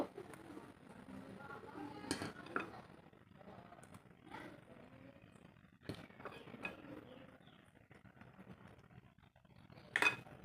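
Batter for a palm-fruit vapa cake is spooned into ghee-brushed bowls in a home kitchen, with a few scattered, sharp clinks of spoon and dishes over quiet background handling noise.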